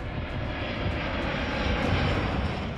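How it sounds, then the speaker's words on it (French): Aircraft engine of a Boeing 747 from Air China produces a steady, broad roar held at constant loudness throughout, with no voices. "il utilise un Boeing 747 de la compagnie Air China"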